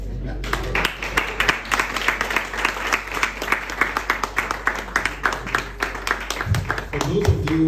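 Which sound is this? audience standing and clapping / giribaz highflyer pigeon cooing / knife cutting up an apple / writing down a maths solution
audience standing and clapping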